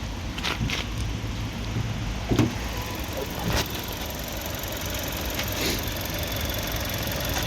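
A 2016 Skoda Fabia hatchback with a 1.2 TSI turbo engine of 110 horsepower idles quietly and steadily, with a few faint clicks and knocks over the low hum.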